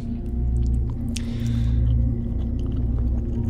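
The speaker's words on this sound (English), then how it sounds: "I really like the ASMR chewing sounds." Wet, squishy chewing sounds from the horror video game Fears to Fathom – Home Alone, soft and close over a low steady hum, with a few small crunchy bites, and no voice over them.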